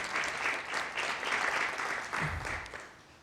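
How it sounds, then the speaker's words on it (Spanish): A church congregation claps to welcome visitors during a service, a steady wash of applause that fades toward the end with a faint voice briefly beneath it. "Denle la bienvenida con un aplauso,"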